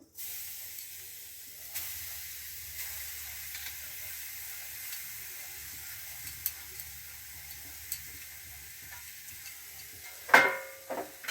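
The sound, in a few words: grated coconut frying in a hot wok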